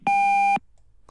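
A single steady electronic beep on a telephone line as a call hangs up right after a voicemail greeting, loud and clean for about half a second, then near silence.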